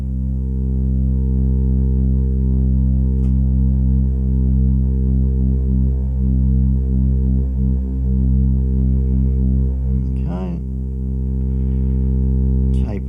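A steady low electronic drone run through a Strymon El Capistan V2 tape echo pedal's wow and flutter effect, with a slowly wavering, warbling pitch, alone and sustained, with a brief crackly blip near the end.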